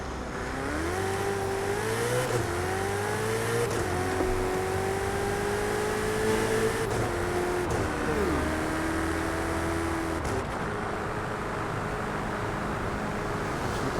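A Ferrari convertible in Forza Horizon 5 revs and pulls through its gears, its engine note rising, dropping at shifts and climbing again, loud and continuous with no talk.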